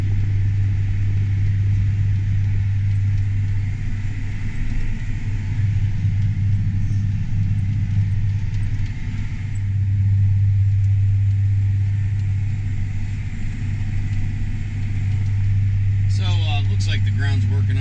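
A tractor engine hums with a steady low rumble as it pulls a tillage implement across a frosty, slightly sticky field at about 7.5 mph, with someone talking over it.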